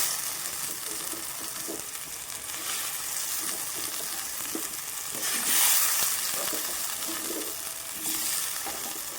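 Potatoes fry in a pan with a steady close sizzle, with occasional stirring and scraping sounds over the continuous hiss.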